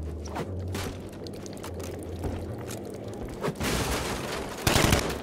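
Gunfire in a Batman Arkham Knight Nightwing DLC video game, sharp shots scattered through busy game sound, with a louder burst near the end and no talk.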